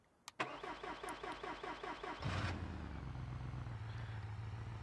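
A car engine in the BeamNG.drive driving game cranks in a quick, rhythmic stutter for about two seconds, then catches with a roar and settles into a steady, low idle.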